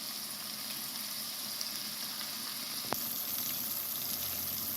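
Onions and tomatoes cooking in oil in a pan for masala khichdi, giving a steady, even sizzle up close with one brief utensil tap partway through, no talking.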